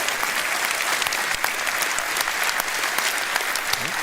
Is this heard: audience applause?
yes